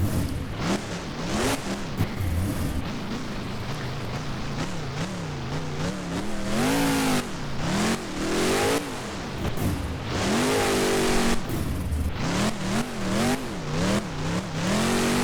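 The Bigfoot Xbox monster truck in BeamNG revs hard for a freestyle run on a beach course, engine pitch climbing and dropping in repeated surges, loud and continuous with brief tire noise.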